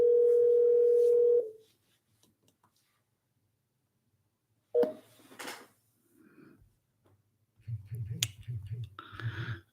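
A steady telephone dial tone sounds loud and alone for about a second and a half, then cuts out; later come a brief clatter and a short burst of voices talking nearby.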